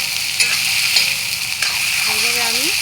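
Thin, long-sliced vegetables sizzle loudly in oil right after onions have finished frying, giving a dense, even hiss with a few scraping stirs, close and continuous.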